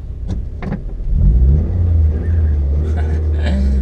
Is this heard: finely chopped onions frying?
no